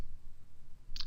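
A computer mouse gives a single sharp, close click near the end of a short, quiet stretch with faint room noise.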